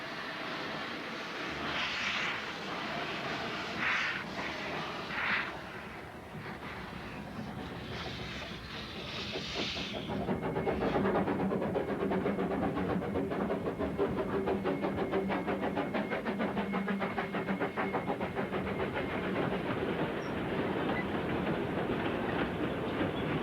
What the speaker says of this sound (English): the magical sound of steam, as the little engine Dolgoch puts its heart into the task of getting the train